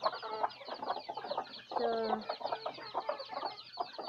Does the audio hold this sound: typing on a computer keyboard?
no